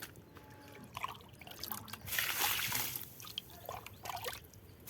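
Water left from washing split black urad dal is poured onto potted garden plants, with a soft steady trickle and splash that rises and falls over a few seconds, close by and fairly quiet.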